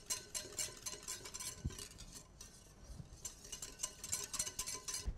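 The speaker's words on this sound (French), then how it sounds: "Je mélange bien." Gelatin is stirred into hot milk for a pistachio praline choux filling, soft quiet scraping and light clinks of a utensil against the pan in an irregular rhythm, no voices.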